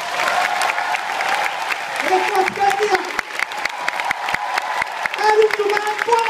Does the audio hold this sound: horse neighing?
no